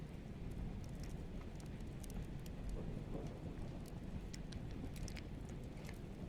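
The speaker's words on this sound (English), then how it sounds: "Uh-oh, it's raining." Steady rain hisses evenly throughout, a dense wash of drops with faint scattered ticks and a low rumble beneath, no voices.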